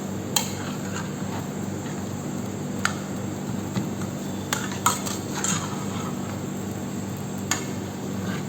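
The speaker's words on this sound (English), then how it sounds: "keep scraping the base all the time" Metal spoon scraping and clinking against the base of a heavy-bottomed vessel while a Rajasthani dish cooks in ghee, faint steady sizzle underneath with sporadic sharp scrapes and taps, no voices.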